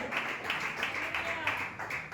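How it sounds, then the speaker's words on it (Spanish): A church congregation applauding, a run of claps in several bursts, fairly close, with voices mixed underneath. "Denle fuerte aplauso a Dios"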